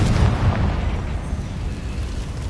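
A Confringo fire spell from Hogwarts Legacy bursts with a dense, rumbling explosion that starts loud and slowly decays into a crackling roar.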